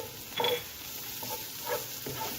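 Garlic sizzles briefly in a pot of softened vegetables for mushroom barley soup, a soft close hiss broken by a few stirring scrapes, fairly quiet with no talk.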